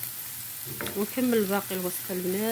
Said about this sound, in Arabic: كما تلاحظوا هي الثومه بدات كتغلي بدات كتطيب